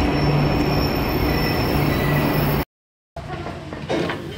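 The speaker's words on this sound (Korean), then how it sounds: "금요일 밤 기차를 타고 목포로 향한다." A Friday-night train to Mokpo rolls along the rails with a loud, continuous rumble and a high wheel whine; the sound drops out briefly, then resumes more softly.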